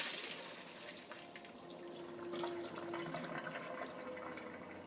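Water pours and splashes steadily from a pot of cooked spaghetti into a sink as it is drained, a soft continuous rushing with no talking.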